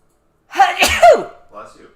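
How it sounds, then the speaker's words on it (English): A single sharp human sneeze, loud and close, with a quick breathy intake before the burst and a short tail-off after, heard indoors. "Oh my gosh, I'm gonna sneeze."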